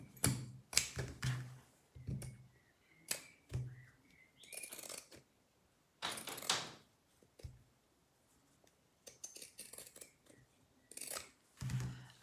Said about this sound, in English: I will use my pinking shears for that. So I'm literally just going to go down the seam allowance and just cut off half of it